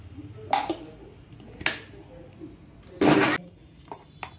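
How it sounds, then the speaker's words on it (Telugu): A mixer grinder blends chutney in short bursts, three sharp whirring pulses with the longest in the middle of the run, separated by quieter stretches with light kitchen clinks. "మిక్సీ చేసుకుందామండి."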